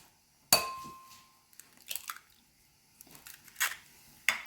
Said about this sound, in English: Let's crack 4 eggs we have here into the bowl.